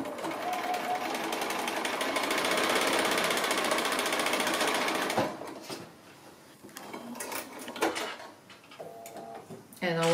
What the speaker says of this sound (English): So I'll stitch that one on now.